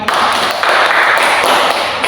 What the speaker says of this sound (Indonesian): Tepuk tangan dulu untuk Ivon